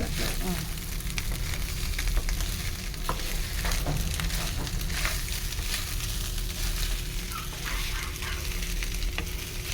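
Fried rice with soy sauce stirring and sizzling in a pan, a continuous crackling fry with scraping stir strokes throughout, close and moderately loud, with faint voices in the background.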